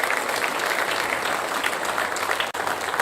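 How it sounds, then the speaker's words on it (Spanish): Audience clapping to welcome a visitor at a church gathering, a dense, even burst of applause from a crowd that holds steady for a few seconds, close and full, with no voices over it. "le damos la bienvenida, también con un fuerte aplauso"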